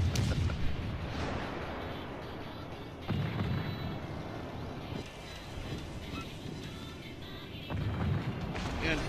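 Secondary guns of a Nassau battleship firing in a naval combat video game, heavy booming reports repeating in bursts about every few seconds over a constant rumbling, windy background, loud and close.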